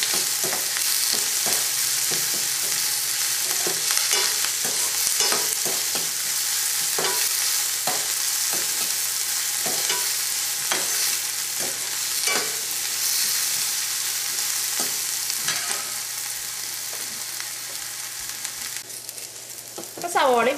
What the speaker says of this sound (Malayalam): ഇഞ്ചിയും പച്ചമുളകും ചേർക്കാം, വേപ്പിൻ്റെ ഇലയും ചേർക്കാം. ഇതെല്ലാം കൂടിയിട്ട് നമുക്കൊന്ന് വഴറ്റിയിടുക.